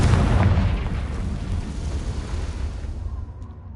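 A Confringo spell explodes in Hogwarts Legacy with a loud, close, rumbling blast that starts at full force and slowly fades over a few seconds, heard alone.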